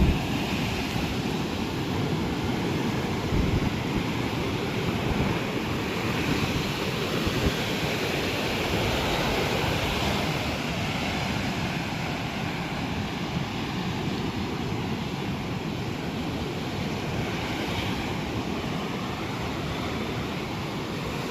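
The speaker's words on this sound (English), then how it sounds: "the waves aren't even like that crazy right now" Continuous roar of ocean surf with waves breaking, a broad steady wash of noise and a faint hiss of wind.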